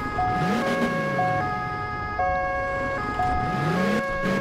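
An ambulance siren in the video game Alarm für Cobra 11: Das Syndikat wails continuously, loud and close, its pitch rising and falling over a steady engine drone.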